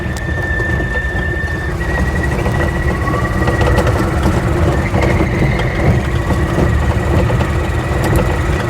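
Three-wheeler car engine droning loud and close while driving on Welsh roads, with a thin, high belt squeal whining over the rumble in stretches throughout.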